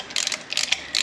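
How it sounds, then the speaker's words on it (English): Tap cutting new threads during an MG Midget restoration, a close, dry ratcheting click in short bursts with brief pauses between strokes. "Cutting new threads, bro."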